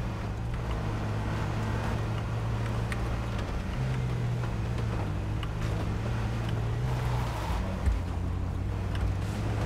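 Vehicles drive around in the video game H1Z1, a continuous low engine drone with a steady hum throughout, under occasional wind-like noise.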